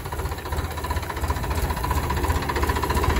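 A vehicle's engine idles and runs with a steady mid-to-low rumble and faint knocking vibration, holding fairly constant loudness throughout with no clear gear-change break.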